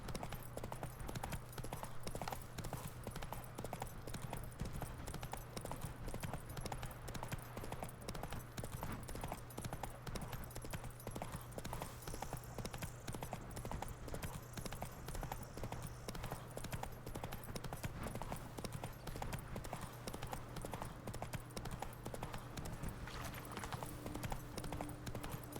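Steady horse hooves clip-clopping in The Witcher 3: Wild Hunt – Blood and Wine, an even trotting rhythm throughout over a constant low game hum, with faint talk underneath.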